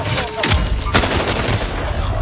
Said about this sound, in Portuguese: Caraca, chegou outro tiro.